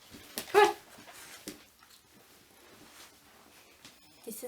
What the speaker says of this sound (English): This is my guard dog.